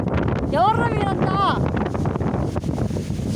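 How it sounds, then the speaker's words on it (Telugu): Strong wind blowing outdoors, buffeting the microphone in a steady loud roar, with a brief whistling tone near the start. "గాలి చూడండి ఎంత బాగా వస్తుందో"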